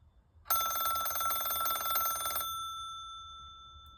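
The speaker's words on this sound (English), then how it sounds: "I love that bell." A Cortelco Classic telephone's mechanical bell rings in one continuous two-second trill, bright and metallic at close range, then its tone lingers and fades in a quiet room.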